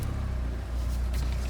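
A 2018 Ford F-150 Platinum idles nearby with a steady low-pitched drone, continuous and even throughout, with faint breezy noise over the top.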